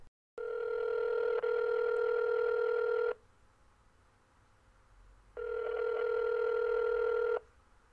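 A phone call being placed: two long, loud electronic ringback tones, each about three seconds with a pause between, steady and close with no talking.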